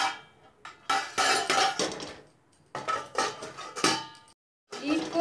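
A metal pan lid clatters and scrapes in several bursts with short pauses between them, heard close up while garlic and dried red chillies roast for a Nepali-style tomato chutney.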